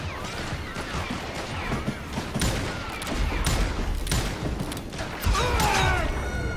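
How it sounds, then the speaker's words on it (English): Gunfire in the Call of Juarez Gunslinger video game crackles in a dense, loud barrage of rapid shots and impacts, layered over clattering mechanisms and continuous game noise. "Both of those shots should have hit him in the shoulder"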